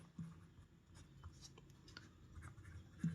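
Pen or chalk writing by hand during a Class 8 maths lesson on square roots, a soft scratching and rubbing running steadily at low level for about three seconds with a few light taps.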